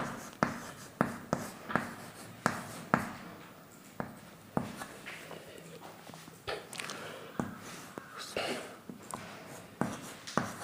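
A pen scratches on paper in a series of short strokes and taps, irregular and close, while someone fills in a business invoice form.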